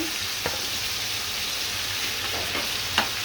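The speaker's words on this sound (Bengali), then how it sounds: "এভাবে সব মাছগুলো দিয়ে আমি মাছ ভেজে নিব।" Koi fish frying in oil in a pan, an even loud close sizzle with a few faint clinks of a spatula or utensil.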